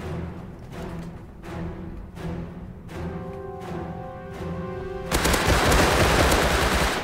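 Rapid bursts of automatic gunfire crack out in the video game Rust, several short strings of shots with brief pauses between them, then a denser, louder volley of sustained fire at the end.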